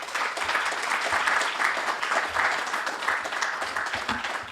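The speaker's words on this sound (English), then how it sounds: "Please give him another round of applause" A room of attendees at a Tiger Bay Club of Manatee legislative luncheon applauds a state representative, a dense, steady wash of many hands clapping close by for several seconds.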